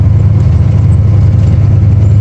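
The engine of an old 1960s Mercedes truck rumbles close and loud, a steady, deep, even drone that holds throughout with no other sounds.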